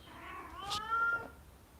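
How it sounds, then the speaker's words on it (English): A house cat gives one loud drawn-out meow, rising then falling with a brief scratchy rustle in the middle, close to the microphone with faint room noise behind. "Do you hear the cat? Do you hear her? She is so loud."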